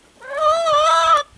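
A hen in a backyard coop gives a single drawn-out, tonal call lasting about a second, close and loud against a quiet background.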